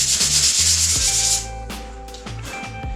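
Paint on a K5 Blazer being sanded with 220 grit sandpaper: a long rough rub followed by several short, quick scratchy strokes, close and fairly quiet.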